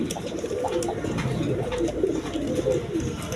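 Giribaz pigeons coo in soft, repeated, throaty bursts close by, with a steady low background murmur.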